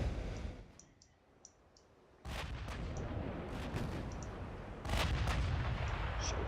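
Battleship guns of a British dreadnought fleet fire repeatedly in a naval video game, a series of heavy booming blasts with sharp clicking transients and sustained rumbling after each salvo, with no talk.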